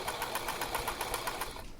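A sewing machine stitches a seam along the seam guide in a fast, even mechanical chatter, close and steady, slowing slightly at the very end.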